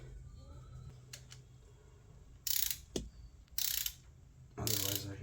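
A torque wrench tightens bolts during a cam swap on a 4A-swapped Toyota Tercel wagon, giving three short bursts of ratcheting clicks close by. Quiet gaps and a few faint knocks separate the bursts.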